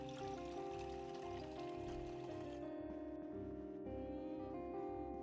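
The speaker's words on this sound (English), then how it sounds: "Let's fill up our water." Water running into a container in the video game Project Zomboid, a steady, faint pouring stream that goes on throughout with a constant tone and game background music.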